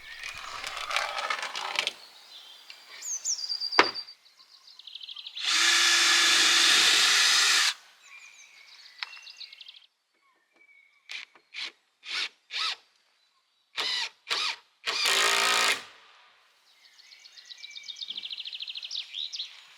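A power drill drives screws through sauna wall boards into a stud, with several bursts of whirring, including longer loud runs and short quick ones, separated by quiet gaps and light rubbing of wood.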